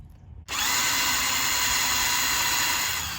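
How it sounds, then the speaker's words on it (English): A power drill starts abruptly after a brief quiet moment, then whines steadily and loudly at close range for the rest of the clip, drilling into the transom of a 1982 Aquasport boat. "I usually just check my transom by drilling a hole"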